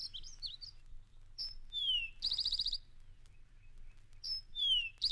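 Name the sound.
eastern towhee song recording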